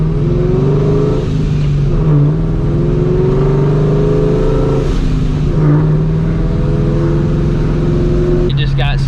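Supercharged New Edge Mustang GT accelerating hard with heavy wheelspin, a loud sustained engine roar with supercharger whine climbing through gears heard from inside the car, voices talking over it.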